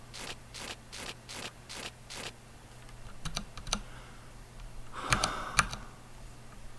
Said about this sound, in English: I'm using a lot of the keyboard shortcuts.